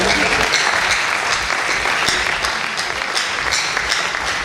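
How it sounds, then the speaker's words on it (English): A large conference audience at a leadership and innovation event claps continuously, a dense, loud wash of applause sustained throughout with scattered sharper claps. "Can you clap for me?"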